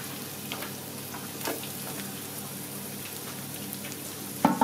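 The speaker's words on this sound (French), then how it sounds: "on va faire sauter un peu d'ail" Garlic sizzles steadily in hot duck fat, a soft continuous crackle with occasional sharper pops and a brief clatter at the end.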